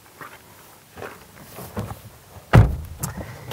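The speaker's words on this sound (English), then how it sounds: "Let's open the frameless door and take a look in the cabin." The frameless door of a Nissan GT-R Nismo being opened: a few soft clicks and rustles, then one sharp, close latch thunk that rings out briefly.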